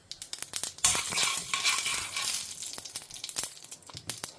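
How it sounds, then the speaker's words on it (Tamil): Mustard seeds and urad dal fry in hot melted ghee, a close bright sizzle with sharp crackling pops scattered through it, the hiss swelling early then thinning while pops continue, no talking. "இப்போ நான் கடுகு, உளுத்தம்பருப்பு போட்டுக்கிறேன்"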